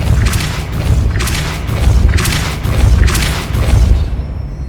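Repeated Depulso spell blasts in Hogwarts Legacy, about five deep booming thumps in a steady rhythm, loud and close, each with a bright crackling burst above the low rumble.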